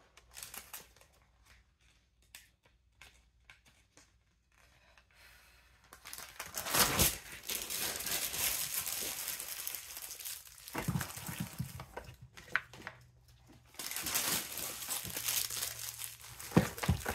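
Packing paper crinkles and rustles up close while a shipping parcel is packed, starting with faint scattered handling noises, then building into loud, sustained crumpling bursts with brief pauses.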